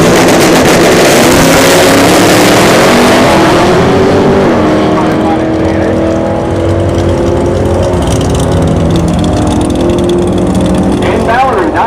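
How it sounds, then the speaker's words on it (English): Loud drag race launch between a 2014 Chevrolet ZL1 Camaro and a 2018 car at Orlando Speed World, engines roaring hard at the start and fading as the cars pull away down the strip, with crowd and track ambience. "Brett Peterson, left-hand lane, 2014 ZL1 Camaro, taking on Mallory Dominguez, her 2018"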